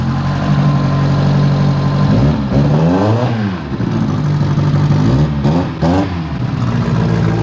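An old Soviet car engine drones loud and steady from inside the cabin, rising and falling through a couple of revs as it drives along, with rattles over the top.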